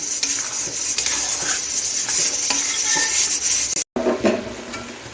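Cabbage and fried potatoes cook in a pan on a gas stove, giving a steady sizzle with scraping and stirring noises. The sound cuts out briefly and then resumes with a few clinks.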